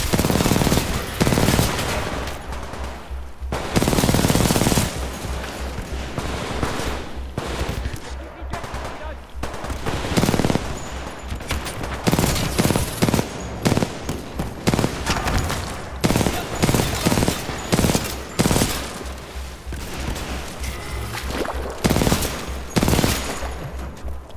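Rapid automatic gunfire in the video game Titanfall 2, bursts of shots and bangs recurring throughout amid loud combat noise, with game dialogue voices heard at times.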